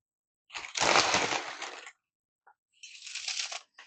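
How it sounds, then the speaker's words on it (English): Tortilla chips crunched up by hand into the bottom of a casserole pan, a loud crackling burst of about a second and a half, then a short pause and a second quieter round of crushing. "I'm going to just crunch them up until we have a good layer in the bottom of our pan"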